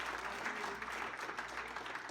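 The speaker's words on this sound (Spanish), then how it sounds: "Den un aplauso al Señor si pueden esta noche." A church congregation applauds at an evening service, faint, dense clapping that holds steady for a couple of seconds.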